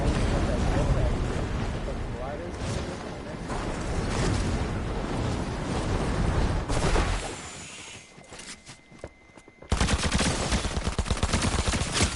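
Tactical assault rifle bursts in Fortnite, rapid loud gunfire filling most of the stretch before a brief quieter gap, then heavy firing resumes, with voices talking over it.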